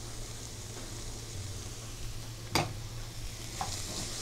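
Mangoes and apples cooking in a pan with softened onions, giving a steady low sizzle throughout with a sharp clack of a utensil near the middle and a lighter tap later; no one speaks.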